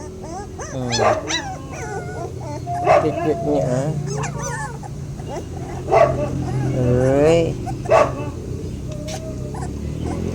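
Hungry puppies whimper, yip and bark in overlapping bursts, near and loud throughout, while someone talks over them.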